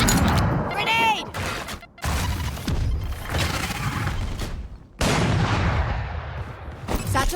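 Grenade blasts and gunfire from a Valorant match, with loud sharp bursts and booms at roughly one, two and five seconds, followed by decaying rumble and scattered shots, with players talking over the action.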